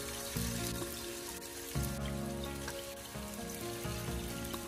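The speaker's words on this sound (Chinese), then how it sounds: "往锅中添加少许的油，把油烧热之后，我们将豆腐块一个一个的分散放进锅中" Tofu cubes frying in a little oil in a frying pan over low heat, a soft, even patter of sizzling with a few slightly louder bursts, fairly quiet throughout.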